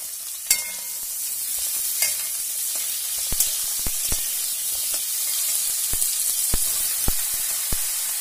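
Eggplant slices frying in oil with crushed black cumin give a steady, close sizzle, broken by scattered sharp ticks and pops.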